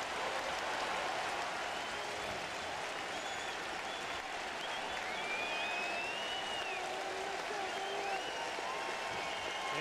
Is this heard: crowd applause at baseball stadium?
yes